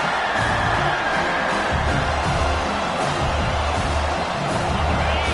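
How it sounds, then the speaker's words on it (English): A dense roar from a stadium crowd at a Miami versus South Carolina college football game, steady and loud throughout with faint cheers rising within it. "This crowd is trying to inspire this defense to make a big red zone stop."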